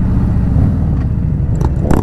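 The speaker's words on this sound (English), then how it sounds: "we're just pulling off the highway here at I-5" Car exiting the I-5 highway in California, a steady broadband road and engine rumble from inside the vehicle, loud and continuous throughout with no speech.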